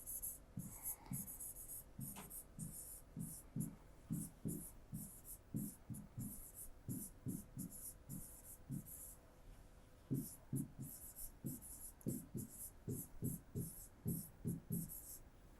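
A pen writes on paper in a workbook exercise: a long run of quick, close scratchy strokes in uneven rhythm, with faint background noise throughout.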